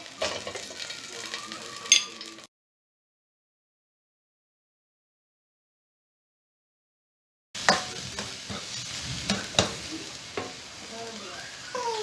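Oil sizzles and crackles in a pan while cooking banana blossom, with a few stirring clatters; the sound cuts out to silence midway, then the frying resumes.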